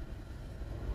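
A Renault Megane 3 with a K4M engine and a misfire in the fourth cylinder, restarted and running as a steady, close, low rumble for about a second.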